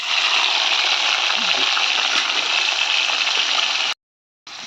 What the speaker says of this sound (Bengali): তো এই দেখুন চিংড়ি মাছ ভাজছি।